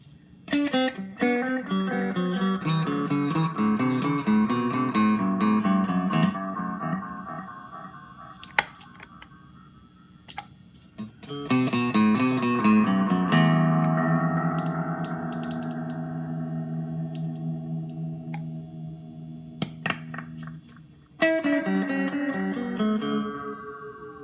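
An electric instrument played through a Mystery Multiplex delay pedal set to mimic an Echorec echo: loud phrases of notes whose repeats pile up and fade in cascading echoes, in three bursts separated by brief decaying tails.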